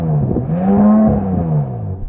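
An Audi S5 V6 revs up against its soft limiter with a loud, smooth rising and falling engine tone. The revs swell, hold near the cap, then drop back within a couple of seconds, close to the car with no talk.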